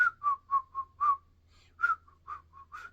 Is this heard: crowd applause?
no